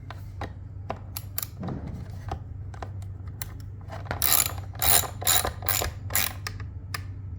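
Bolts on an electric lift motor mount being tightened with a ratchet, giving a run of sharp, close metallic clicks that cluster faster and louder toward the end over a steady low hum.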